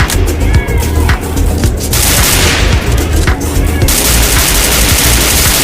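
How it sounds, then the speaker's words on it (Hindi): Gunfire in the Free Fire battle royale game on the Bermuda map, dense loud bursts of rapid shots filling the clip, with heavy overlapping crackle and brief gaps between volleys. "और ये फायर करने लगे।"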